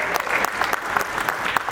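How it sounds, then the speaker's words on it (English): Audience at a national real estate investor conference applauding, a dense, steady wash of clapping hands with a few sharper claps standing out, filling the whole moment without any talk. "So a round of applause to you guys for still being here"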